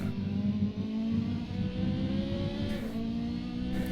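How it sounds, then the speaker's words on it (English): Race car engine in a racing video game running steadily at high revs, a dense buzzing drone with a brief dip as traction control cuts in, no talk. "Okay, I definitely heard traction control there."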